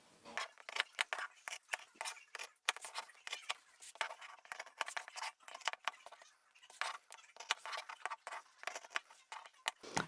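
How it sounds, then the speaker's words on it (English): Scissors snip through layered fabric to cut the box corners of a sewn bag, a quick run of close, crisp crunching cuts with short pauses between strokes. "then we can cut out the box corners"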